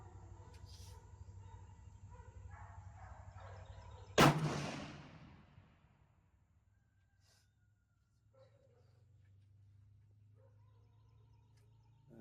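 Single loud rifle shot from a Christensen Mesa FFT, a sharp crack with a decaying echo outdoors, preceded by faint background noise and followed by quiet.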